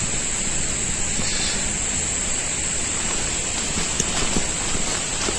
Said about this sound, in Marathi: तो पाण्याचा आवाज होते खाली